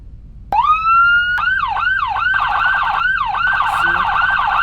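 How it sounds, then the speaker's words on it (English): A loud electronic emergency vehicle siren in a video game starts with a rising wail, then switches to a fast repeating yelp that cycles steadily with no talking. "my sirens are kind of bugged,"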